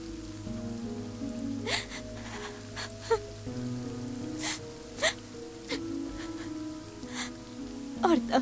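Rain falls steadily in a film scene, a continuous wash with occasional sharper drop sounds, heard over a sustained musical score and without any speech.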